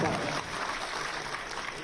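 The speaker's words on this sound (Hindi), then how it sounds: "जोरदार तालियों के साथ" A crowd at a government ceremony in Uttar Pradesh applauds the Chief Minister with dense, steady clapping that fills the room, loudest at the start and holding evenly throughout.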